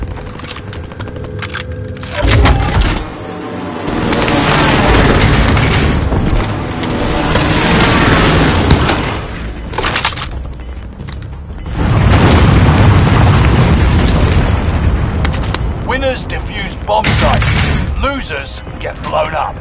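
Video game explosions from a bomb-defusal match, heavy booming blasts that roll in long, loud waves one after another, with rumbling tails and a voice heard now and then.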